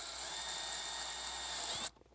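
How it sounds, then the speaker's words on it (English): A 3/16 drill bit bores a small hole into the dash of a 5th-gen Toyota 4Runner, making a steady, close, high-pitched whir that runs for about two seconds, then cuts off abruptly. "So we're just going to grab our 3/16 drill bit and just drill a small hole right here."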